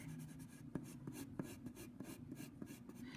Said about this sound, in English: I'm applying a pretty good amount of graphite into the paper.